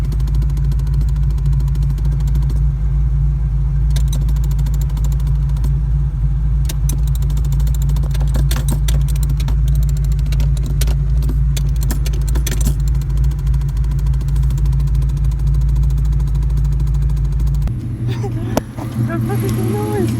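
A Ford Mustang engine runs with a knocking-like noise, a loud low steady drone with irregular tapping and clatter over it, before cutting out near the end; people talk over it.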